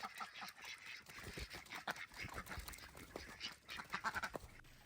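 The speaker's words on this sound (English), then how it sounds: "Our ducks have turned into mud ducks." Free-range ducks in a muddy duck run after days of rain give a loose string of close, honking quacks of varying loudness with no speech.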